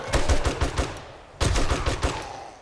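Rapid automatic gunfire in the survival game 7 Days to Die, two loud bursts of repeated shots separated by a brief pause, close and punchy with no speech.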